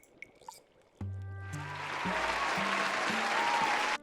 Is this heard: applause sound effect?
yes